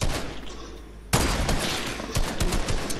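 Loud Fortnite gunfire cuts in abruptly after a quieter stretch, a rapid string of close shots with a few sharper cracks standing out.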